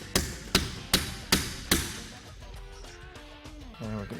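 Five sharp hammer blows on a blind rivet during vent window seal replacement on a Chevy/GMC truck, evenly spaced and loud, followed by quieter tapping and faint tonal sounds.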